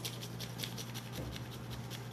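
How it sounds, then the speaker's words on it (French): Nutmeg being ground fresh over food while packing weekly lunch boxes, a steady, soft scratchy rasp that continues evenly and fairly quietly throughout without pauses. "je vais me permettre de venir moudre un petit peu de muscade aussi"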